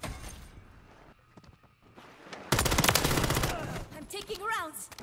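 Rapid automatic gunfire bursts out loud in a Modern Warfare 3 Hardpoint match, a dense rattling volley that follows a quieter stretch of game ambience and continues with scattered shots and effects.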